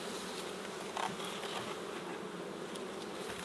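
Honey bees hum in a dense, steady drone at a large, busy summer beehive, close and continuous, with individual buzzing flights rising briefly above the swarm.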